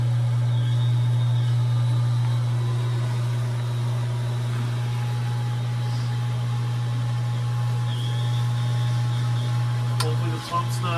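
Water pressure pump running continuously with a steady, loud low hum and faint mechanical whir, unchanging for the whole stretch, with a brief knock near the end.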